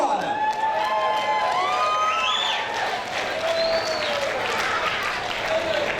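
A boxing event crowd cheers, whoops and applauds continuously, a dense, loud wash of claps and shouts with rising whistles and yells throughout.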